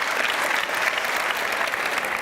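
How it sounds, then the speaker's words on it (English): Audience at a startup conference stage gives a warm round of applause for a guest, with a dense, steady wash of clapping hands and no letup. "Round of applause, everyone, for Thomas."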